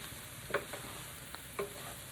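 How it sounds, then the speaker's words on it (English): Zucchini sautéing in a pot for zucchini, leek and spinach soup, a faint hiss of frying under a few soft stirring scrapes and clicks, no voices. "Just throw the zucchini in there. And we're just going to stir it around a little bit."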